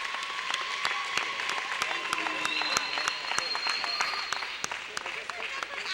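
A crowd in a school gym at a basketball game claps for someone named Stacy, a dense round of applause with sharp individual claps standing out and voices mixed in, some cheering, close and lively.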